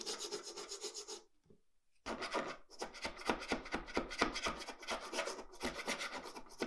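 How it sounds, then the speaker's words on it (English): A razor blade scraper scrapes hot glue off a wooden board in a workshop, making a steady run of rapid rasping strokes up close. A short pause breaks the scraping near the start. "grabbed a razor blade scraper and began scraping away as much of the hot glue as I"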